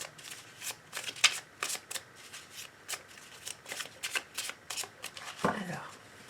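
A deck of tarot cards being shuffled and cut by hand, a rhythmic run of crisp riffling flicks, close and soft, with a quiet voice speaking now and then.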